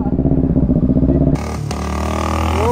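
A Kawasaki Z900 motorcycle thumps at a steady pulse up close, then abruptly gives way to a loud smooth roar as the bike sweeps past on a road in Patratu valley.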